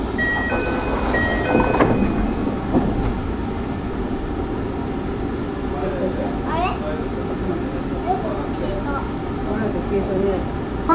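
Tsukuba Express rapid commuter train running, heard from inside as a continuous rumbling roll with rising electric motor whine and faint rail clatter, under an onboard Japanese announcement.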